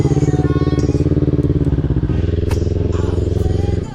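Loud motorbike engine idling and running close by, a dense steady throb with rhythmic pulses and some clatter throughout, easing slightly near the end; no talk.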